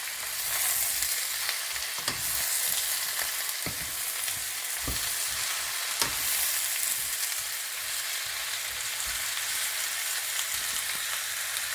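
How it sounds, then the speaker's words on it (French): Vegetables fry in oil in a pan for a fresh vegetable gratin, giving a steady, close sizzle. Occasional stirring clicks and taps punctuate the continuous crackle. "On fait d'abord revenir les légumes dans l'huile."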